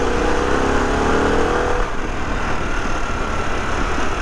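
A 2021 Harley-Davidson Pan America Special motorcycle engine revving in sport mode, a loud steady drone with a rising tone over the first two seconds that settles into rough engine and road noise.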